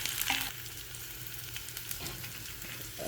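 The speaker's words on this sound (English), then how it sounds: "Okay, now stir it. You stir it fast." Dal palak tadka stirred quickly in a hot pan, a steady close sizzle with scraping strokes of the spoon running throughout, no voices.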